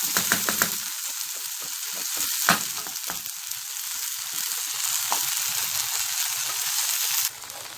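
Rice and lentils sauté together in a hot pan with a steady, loud sizzle. Several scraping stirs break through near the start and again further on. The sizzle stays close and continuous, with no talk.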